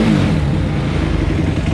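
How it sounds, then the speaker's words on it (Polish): Kawasaki KX250F motocross engine running just after starting, a loud close rough idle with a brief rise in revs, steady and unbroken. "Tak na razie po odpaleniu nic nie dmucha w odmę, wszystko dobrze, na gaz reaguje."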